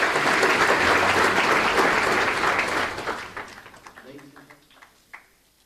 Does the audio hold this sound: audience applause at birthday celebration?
yes